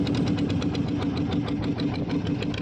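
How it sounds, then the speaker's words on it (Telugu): A fishing boat engine at sea runs steadily while the net is hauled in for maga fish, a loud, close, continuous chugging drone with an even rhythmic pulse and no voices. "ఇప్పుడు ఈ వల లాక్కోవటం కూడా ఇంజిన్ మీదే లాక్కుంటూ ఉండాలి"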